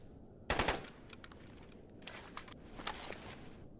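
Gunfire in the video game Stalker GAMMA: one sharp loud burst of automatic fire followed by scattered fainter, more distant shots and clatter, with no talk.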